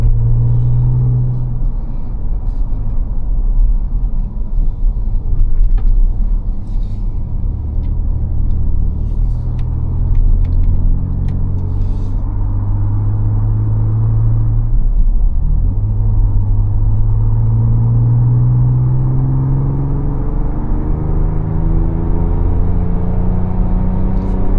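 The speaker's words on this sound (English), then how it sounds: "We're just going to be driving normally on these back roads." A 2024 Ford Ranger Raptor pickup with a Ford Performance tune cruises at normal speed on back roads, giving a steady low engine and road rumble heard from inside the cab, with gentle rises in engine pitch as it shifts and gains speed.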